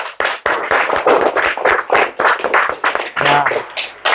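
A classroom of students applauding after classmates present: steady, close hand clapping for about four seconds with a few uneven pauses, no talking over it.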